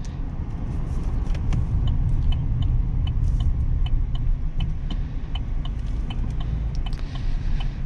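Steady road and engine drone from a 2024 Chevrolet Silverado 1500 Custom four-wheel-drive pickup cruising on the highway, a continuous low rumble with light rattles and clicks, no talking.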